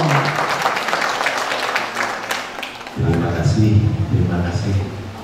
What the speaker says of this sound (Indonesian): langsung kita berikan tepuk tangan untuk Pak Uwin Dwi Laksono